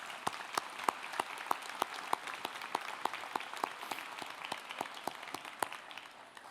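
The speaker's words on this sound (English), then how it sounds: "So give yourselves a round of applause." Graduates and families clap at a UC Davis nursing school commencement ceremony; a few sharp, close hand claps stand out in a regular rhythm over softer, sustained applause from the crowd behind.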